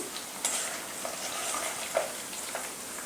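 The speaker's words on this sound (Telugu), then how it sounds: "ఎల్లిపాయలు ఎర్రగా వేగాక కరివేపాకు కూడా వేసుకున్నాను." Garlic, dried red chilies and curry leaves fry in hot oil in a pan for a tempering, giving a steady close sizzle with a few brief crackling pops and no talk.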